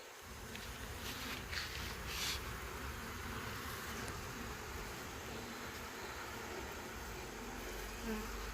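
Honey bees swarm and buzz around an open hive during an inspection, a dense steady hum close by that continues without a break and with no voices.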